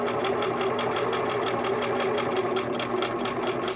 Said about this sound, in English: Begin to sew so that the needle is going halfway onto the applique and halfway out to the fabric.